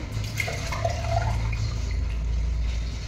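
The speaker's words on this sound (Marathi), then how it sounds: "आता गरम पाणी मी काढते" Hot water pours in a steady, gushing stream for a few seconds, a continuous rushing splash close by with no talking.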